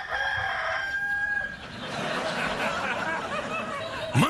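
A rooster-like crow rings out loud and close, then gives way to a few seconds of noisy clucking chatter and a sharp squawk at the end.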